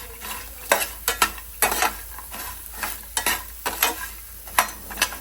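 Potato pieces fry in a pan while a spoon stirs them now and then, producing a soft background sizzle broken by a series of sharp scraping strokes.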